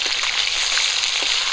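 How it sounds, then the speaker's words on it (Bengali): Fish pieces frying in a pan of oil, a loud, even hiss of sizzling close up with faint pops, held steady through a brief stretch. "মাছগুলো এক পিট করে ভাজা হয়ে গেছে, উল্টে দিচ্ছি।"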